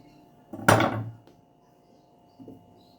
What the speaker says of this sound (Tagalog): Balatan na natin Kaylee yung sayote.